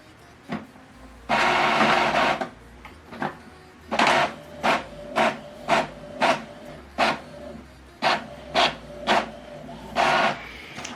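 An Epson printer prints a single black-and-white page with a long feed whir, then a rapid series of rhythmic mechanical chugs and clacks as the print head shuttles back and forth.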